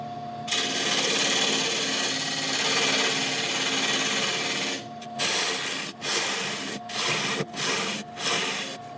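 A lathe turns down a tenon on a piece of Laburnum wood, giving a loud, close, continuous scraping hiss that breaks into several shorter cuts with brief gaps toward the end.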